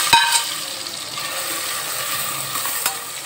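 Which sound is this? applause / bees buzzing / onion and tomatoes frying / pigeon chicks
onion and tomatoes frying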